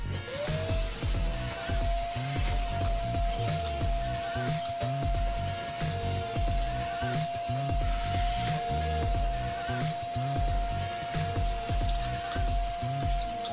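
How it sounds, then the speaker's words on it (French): A 1200 W ash vacuum cleaner with a 20 L metal tank drones loudly and steadily with a constant whine, mixed with clattering and rattling as ash is sucked up from a boiler ash pan. "c'est un aspirateur qui fait 1200 watts. Il a une capacité de 20 litres, la cuve en métal"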